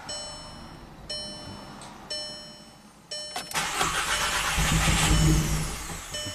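A VW CC cranks without starting: several short starter bursts at a steady rhythm, then a longer, louder cranking spell that keeps churning without catching, close and clear with no voices.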